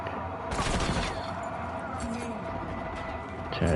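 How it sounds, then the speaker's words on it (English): Rapid bursts of gunfire from a Call of Duty Black Ops 6 multiplayer match crackle close and loud, with a sharp volley near the start and another toward the end, and a voice talking in between. "Gunfire a little bit too loud in my ear."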